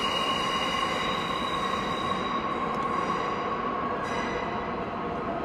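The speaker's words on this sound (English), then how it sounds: "I'll let the train go past" A train rolls past steadily at close range, a continuous rumble of wheels on rail with faint metallic squeals and no talk over it.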